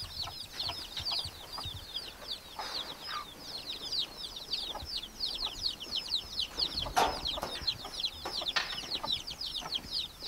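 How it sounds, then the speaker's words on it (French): A hen clucks repeatedly on an old record, with dense overlapping poultry calls that sound steady and fairly close, over a faint background hiss. "vous mettez ce disque-là avec cet enregistrement de poule"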